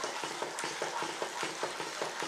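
A sweet coconut mixture is stirred in a pan over a high flame, with a soft sizzle and rhythmic, scraping strokes repeating about every quarter second, close and moderately loud with no talking.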